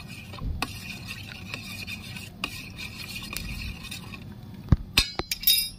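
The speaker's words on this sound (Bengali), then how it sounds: "সামান্য একটু নুন দিয়ে দিচ্ছি জলের মধ্যে, ভালো করে মিশিয়ে নেব।" A spoon stirring salt into water in a bowl while preparing dahi bara: soft swirling with sharp clinks of metal against the bowl, quiet at first, then a burst of louder clinks near the end.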